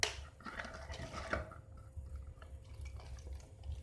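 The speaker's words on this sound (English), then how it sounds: "I'm gonna add water right now." Water being added to a batch of slime, with soft wet drips and squelches and a few light clinks of a container, close and quiet.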